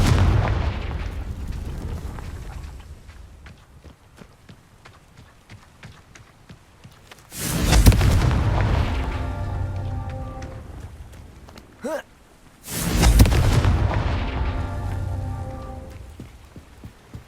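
Two fiery Confringo spell blasts go off in Hogwarts Legacy, each a sudden loud, crackling burst that rumbles and fades over a few seconds, separated by quieter background bustle.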